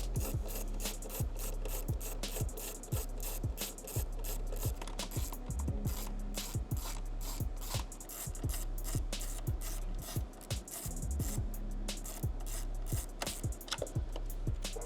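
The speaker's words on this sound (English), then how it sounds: "taking out the 6 T30 bolts that hold on the upper taillight portion" Six T30 bolts are worked out of the upper taillight section of a Porsche 992.2 Carrera, giving quiet, close, repeated ratcheting clicks and scraping rasps in a steady rhythm.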